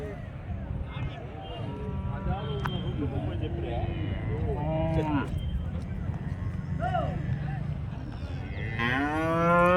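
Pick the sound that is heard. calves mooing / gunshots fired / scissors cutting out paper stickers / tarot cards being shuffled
calves mooing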